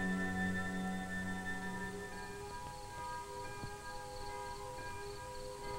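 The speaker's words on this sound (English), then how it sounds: "the curfew bell tolled its warning" A curfew bell tolls at nightfall over hills, its faint sustained ringing tones hanging in a quiet, distant ambience and slowly fading.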